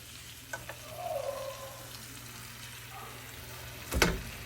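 Tandoori chicken sizzles and fries in a pan on the stovetop while the pieces are turned over. A steady low crackle runs throughout, with brief scraping and clatter bursts near the start and a louder clank toward the end.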